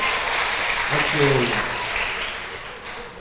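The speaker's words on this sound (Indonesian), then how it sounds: "yuk kasih tepuk tangan dulu Bapak Ibu" A church congregation claps together in a steady, close wash of applause that swells slightly and then fades, with a brief spoken word over it.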